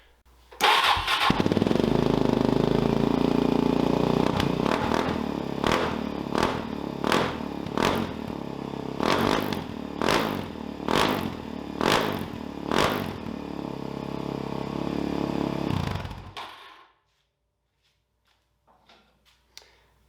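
A motorcycle engine without a silencer starts and runs very loud and raw, with a rapid series of sharp revving blasts before cutting off abruptly into near silence.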